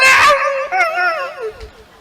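A human voice imitates a puppy barking and whimpering, one loud yelp followed by a drawn-out, wavering whine, close and clear.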